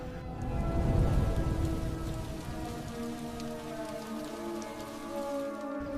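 Steady heavy rain pours down on a night-time bamboo forest, a dense wash of drops that swells slightly early on with a low rumble underneath, then settles into a constant, even downpour with no voices.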